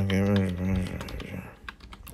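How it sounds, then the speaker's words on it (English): Computer keyboard typing, a scatter of quick soft key clicks following a moment of voiced sound, close and fairly loud. "I'm typing something."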